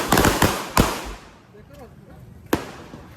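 Diwali firecrackers burst with several sharp, loud bangs, three in quick succession and then one more after a short pause, with faint voices between them.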